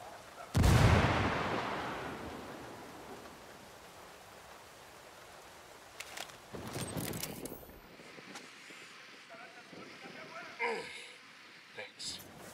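A grenade explosion and gunfire in a video game: one heavy, booming blast early on decays slowly, then sharper gunfire bursts and crackles follow later, with faint background activity.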